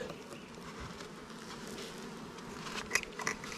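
Honeybees fill a swarm trap with a steady, droning buzz, close and fairly soft, with a few sharper individual buzzes rising near the end.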